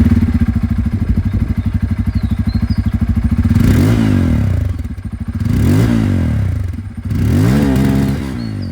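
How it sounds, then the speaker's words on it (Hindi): A Bajaj Pulsar N250 motorcycle with a dual-barrel exhaust idles with a close, throbbing note, then gets three sharp throttle blips that rise and fall, the exhaust burbling between revs, with no voices. "अब यहाँ पर जो N250 है इसकी भी आवाज़ आप लोग सुन लीजिए, क्योंकि यहाँ पर ये आप लोगों को डुअल बैरल एग्जॉस्ट के साथ आती है।"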